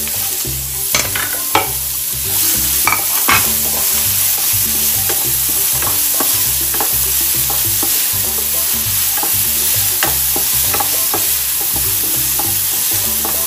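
Chopped onion fries loudly in a pan for mutton curry, a constant sizzle broken by repeated stirring clatters and scrapes throughout.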